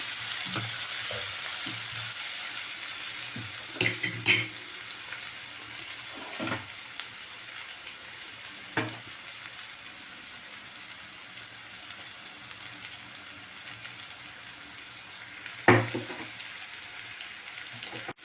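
Green chillies fry in a pan, a continuous soft sizzle with occasional louder clatters of stirring, moderately faint and close with no talking.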